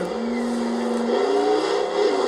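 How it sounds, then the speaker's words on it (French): A V10 engine in a 4x4 car from the Forza Horizon 4 racing game revs loudly, its tone climbing steadily over about two seconds in a close, sustained roar. "Voilà, donc 4x4 avec un son démentiel."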